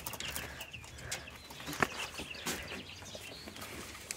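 Hens cluck faintly at a poultry farm alongside young Bourbonnais chicks, soft scattered calls over a steady background hum with one brief sharp peck near the middle.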